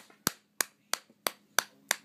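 A toddler claps her hands six times at a steady, even pace. Each clap is a sharp, close, fairly soft slap with quiet pauses between them.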